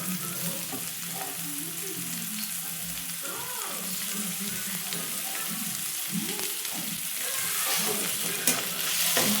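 Onion and tomato fry in a pan for an egg ghotala dish, a continuous sizzle with scraping and stirring throughout, close and moderately loud, growing slightly toward the end, with no voices.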